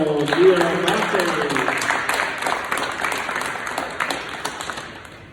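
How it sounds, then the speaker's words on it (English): Audience clapping at a middle school leadership ceremony for a student, steady moderate applause heard under a voice talking and fading gradually toward the end. "So can y'all clap it up for Daph Quayle"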